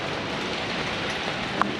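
Rain falls steadily outdoors, a close, even hiss of drops hitting surfaces with one brief louder drip near the end and no voices.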